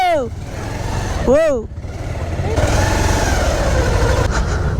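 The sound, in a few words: motorbike engine straining on steep uphill road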